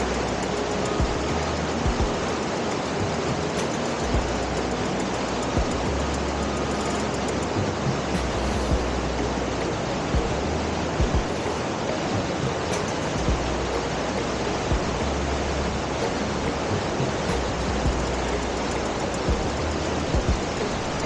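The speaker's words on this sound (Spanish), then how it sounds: "este túnel es generado por la misma agua que baja con mucha fuerza" Water rushes hard through a tunnel near a hidden pool by abandoned train stations, making a dense, continuous roar that stays loud and steady throughout, with no voices.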